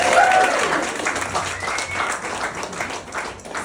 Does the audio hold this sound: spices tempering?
no